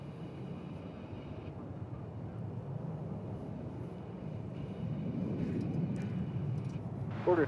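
An Airbus A380 taxis past Terminal D at Dallas/Fort Worth Airport, a steady low engine rumble that swells slightly as it nears, with faint radio chatter on top.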